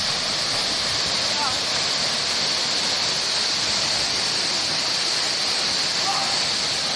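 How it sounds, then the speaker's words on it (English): Steady roar of a waterfall on Tanna Island, a dense continuous rush of falling water filling the whole clip, close and loud. "took us to a waterfall"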